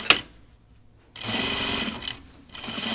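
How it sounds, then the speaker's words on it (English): A sewing machine stitches a quarter-inch seam on a Tamarack jacket, a steady close mechanical whir running in two bursts after a short click and a pause, with no talking. "You don't need to see me sew the whole thing."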